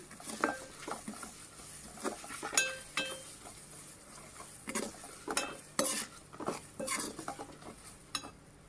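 A spoon scrapes and clinks against a metal pan in irregular strokes, close and moderately loud, with faint sizzling of frying mutton pieces underneath and no talking.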